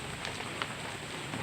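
Steady rain falling over a farm field where the ground is being ploughed for bitter gourd planting, a soft continuous hiss with a few faint drop taps, moderately distant and with no voices.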